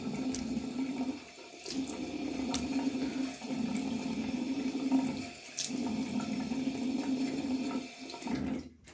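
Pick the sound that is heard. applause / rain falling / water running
water running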